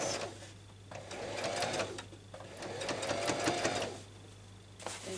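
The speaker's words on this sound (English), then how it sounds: "Make sure everything is not squashed when you're sewing it." A sewing machine stitches a pocket onto a child's dress in quick, steady bursts of mechanical whirring, pausing between runs, close and fairly quiet.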